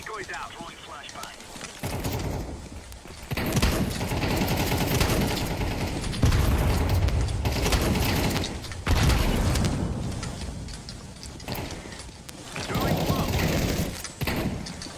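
Dense gunfire in an online shooter video game, with bursts of automatic fire and sharp blasts that include a flashbang, loud and continuous through the clip with a person talking over it.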